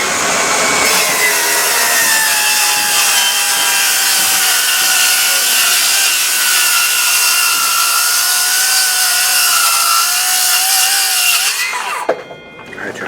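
A Milwaukee M18 Fuel 7¼-inch rear handle circular saw cutting lumber, loud and close, with a sustained whining cut that runs for about eleven seconds and then stops abruptly as the blade spins down.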